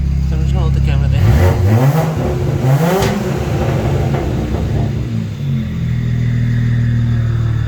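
A single-turbo BMW N54 engine with new injectors and a 2-step revs hard several times, loud and close, rising and falling over a steady idle rumble.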